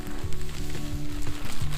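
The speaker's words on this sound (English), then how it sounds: "Now we're gonna put our potatoes in here and let these cook." Potatoes cooking in a seasoned pan over a campfire, a steady close sizzle and crackle with low rumbling underneath, no voices.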